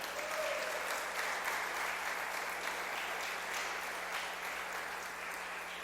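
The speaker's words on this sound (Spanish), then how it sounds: "Dale un fuerte aplauso al Señor." A Spanish-speaking church congregation gives the Lord a strong round of applause. The clapping is dense and continuous, slightly distant, and lasts several seconds over a faint low hum.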